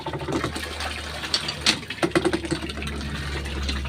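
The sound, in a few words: water pump filling water for hand laundry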